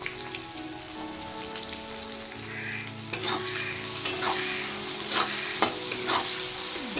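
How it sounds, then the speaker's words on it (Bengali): Moringa drumsticks sauté in a pan with salt and turmeric, giving a steady sizzle under frequent stirring scrapes and a few sharper clacks of the spoon against the pan. "এবার আমি পরিমাণ মতো নুন আর হলুদ দিয়ে সজনে ডাঁটাগুলো একটু সাঁতলে নেব"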